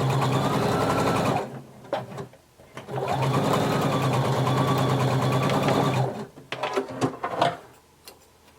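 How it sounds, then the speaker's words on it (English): A sewing machine stitches the inner leg seam of a romper at a 5/8 inch seam allowance. It runs in two long, loud, steady bursts, each followed by short clicks and handling noises, and nobody speaks. "you're going to sew that together using a 5/8 of an inch seam allowance"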